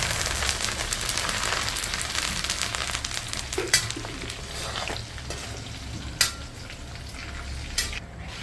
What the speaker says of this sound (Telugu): నేను కరేపాకు వేసి వేపుకున్నా దాన్ని వేపుకొని తీసేస్తాను